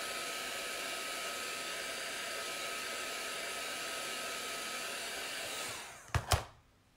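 Hair dryer blowing steadily to dry chalk paint on a Halloween or farmhouse decoration, a loud continuous whoosh that runs for about six seconds, then cuts off with a couple of bumps.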